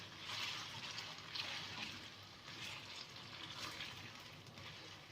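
Taro root (arvi) pieces browning in hot ghee or oil in a pan, giving a steady, moderate sizzle and soft bubbling crackle that carries on without a break, with no voices over it.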